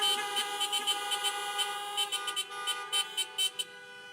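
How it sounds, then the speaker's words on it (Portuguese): Car horns honk in short rhythmic bursts over a steady, sustained horn tone, loud and close, with no talking, at a drive-in church service. "buzina onde você está"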